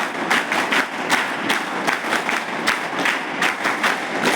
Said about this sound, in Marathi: मुख्याध्यापक सरांसाठी टाळ्या वाजवा